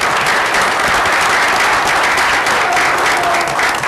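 Loud, continuous applause from a council meeting audience for PAC 86, a dense wash of many hands clapping steadily throughout.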